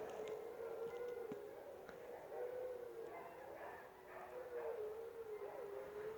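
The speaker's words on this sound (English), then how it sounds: "those are the dogs. Howling." Several dogs howl together like wolves in long, wavering, overlapping notes, faint and distant against a steady background hum, with no talking over them.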